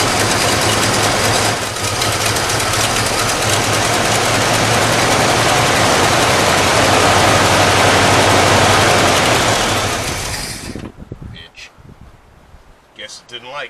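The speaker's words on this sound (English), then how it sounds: "our engine runs." A 1984 Ford F150 engine runs loudly and steadily close by for about ten seconds, then cuts out abruptly, leaving quiet shuffling and small knocks.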